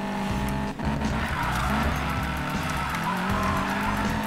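A car drifting in the video game Need for Speed Payback, loud continuous engine roar with sustained tire squeal and skidding through a turn, close and steady throughout.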